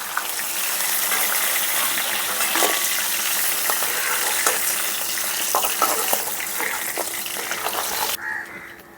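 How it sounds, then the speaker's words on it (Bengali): Pangas fish fries in hot oil with a steady, dense sizzle and occasional clinks of stirring, ending abruptly near the close. "বাকি মাছগুলো ছেড়ে একইভাবে ভেজে নেব।"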